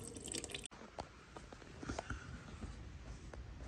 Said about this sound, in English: So what I've done is I've lowered, partially removed the pump. I'm letting it drain out from there,